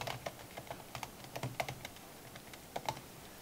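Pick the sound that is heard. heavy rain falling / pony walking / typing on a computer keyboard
typing on a computer keyboard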